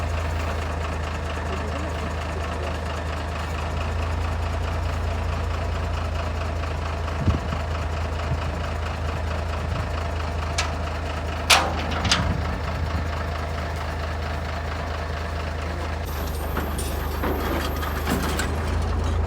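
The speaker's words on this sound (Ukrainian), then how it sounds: "Так, їде вже наш маніпулятор додому." A crane truck with a manipulator arm arrives at a farm, its engine droning steadily at idle with low rumble and occasional mechanical clanks and rattles, fairly close, with no talking.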